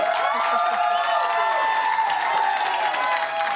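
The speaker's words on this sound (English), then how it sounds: "Let's clap Diane now." A studio audience claps and cheers steadily throughout, a continuous wash of applause with a bright ringing tone running through it and no pause.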